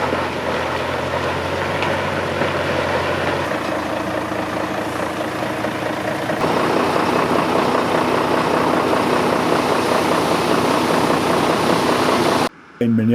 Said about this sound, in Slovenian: Praznjenje zaboja tovornjaka